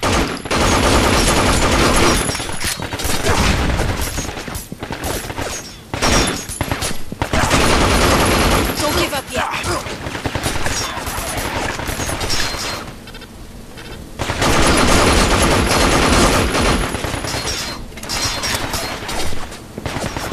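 Sustained gunfire rattles through a firefight in the video game Binary Domain, with dense, loud, near-continuous bursts that pause only briefly.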